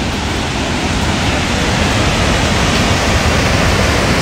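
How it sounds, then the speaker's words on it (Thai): A waterfall in Hemsedal roars continuously nearby, a loud, dense wash of rushing water that stays steady from start to finish with no other sounds. "เรามาถึงแล้วค่ะน้ำตกสวยมากเลย"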